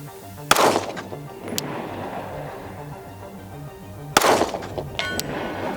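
Two sharp, loud Glock 47 handgun shots fired at an outdoor range, spaced several seconds apart, each a crisp crack with a brief ringing decay, plus a fainter metallic tap between them and no talk.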